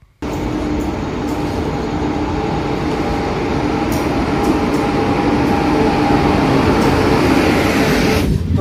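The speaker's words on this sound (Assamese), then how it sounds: "তো বৰ্তমান ট্ৰেইন আহি গ'ল।" A passenger train pulls into a station, a loud, close, continuous rumble and roar of wheels and carriages that starts abruptly and holds steady for about eight seconds, with no voices.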